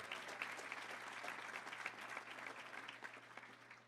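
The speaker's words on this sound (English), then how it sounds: "Let's give him a round of applause" A luncheon crowd at the Little Rock Touchdown Club gives a sustained round of applause, a dense, even patter of many hands heard from across the room over a low steady hum.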